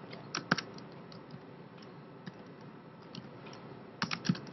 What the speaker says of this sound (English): So let's just type something here.